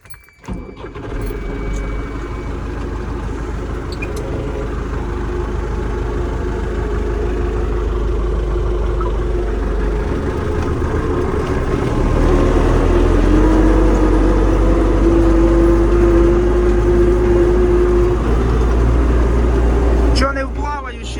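An MTZ tractor's diesel engine runs with a deep steady rumble that grows slightly louder partway through, while someone talks over it nearby.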